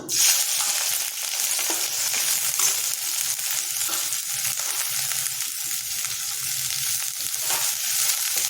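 Green chillies and shredded cabbage sizzle in hot oil with mustard seeds, a steady close crackling hiss throughout with occasional stirring scrapes.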